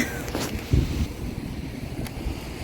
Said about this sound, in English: It's windy, I don't even know if you can hear me.